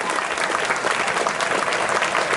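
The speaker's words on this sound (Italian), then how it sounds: "un applauso facciamoglielo" An audience at a live show in San Giovanni Suergiu, Italy, claps steadily throughout, a dense, even wash of applause from a crowd.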